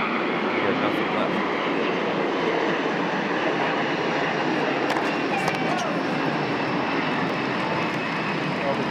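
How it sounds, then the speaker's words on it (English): Jet planes fly overhead near LaGuardia during a US Open tennis match, a loud, continuous broad roar that fills the scene for several seconds. A commentator's voice runs underneath it. "you're going to hear the roar of those jets flying overhead"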